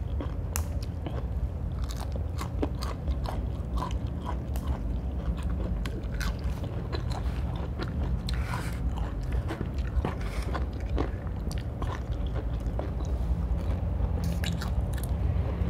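Crunchy fried Thai fish cakes being bitten and chewed close to the microphone, a steady run of crisp crunches and mouth sounds with no talking.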